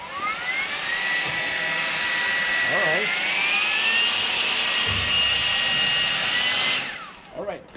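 A PATOOLIO 20V cordless electric leaf blower, rated 630 CFM, used to dry a freshly washed tractor, runs with a loud, steady whining roar for about seven seconds before cutting off. Someone speaks briefly over it.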